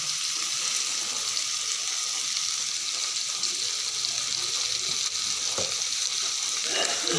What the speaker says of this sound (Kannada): ಅರಶಿನ ಹುಡಿ ಸ್ವಲ್ಪ ಸ್ವಲ್ಪ ಉಪ್ಪು ಹಾಕಿ ಫ್ರೈ ಮಾಡಿ